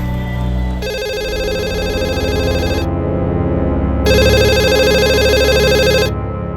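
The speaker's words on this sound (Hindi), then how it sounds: "लैंडलाइन पे फोन लगाओ।" A landline telephone rings loudly in two long electronic bursts separated by a brief gap, over a low background hum.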